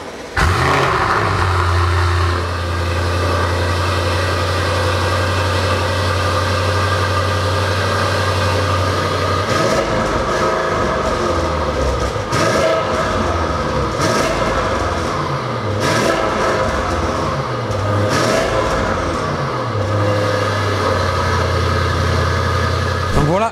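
Audi ABT-R with a decat exhaust in a garage, its engine running loud and close with a steady low drone that rises into revs and falls back, while someone talks over it.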